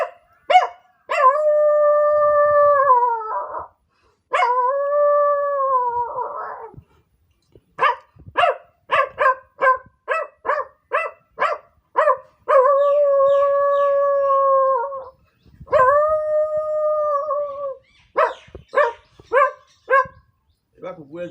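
A voice imitates a dog at a person, repeating drawn-out, wavering howls between runs of sharp, rapid barks, loud and close, alone.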